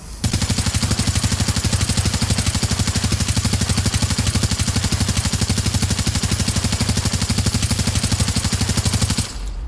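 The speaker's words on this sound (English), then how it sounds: "and you have a submachine gun" Submachine gun fired in The Division, one unbroken burst of rapid automatic fire lasting nearly ten seconds, loud and close, then stopping abruptly; no voices.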